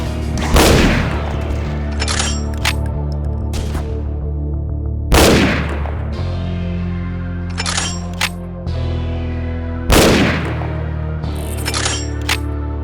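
Junker musket fired in Ashes 2063, three heavy booming shots spaced a few seconds apart, each followed by reload clicks and metallic handling sounds, loud and close over game music.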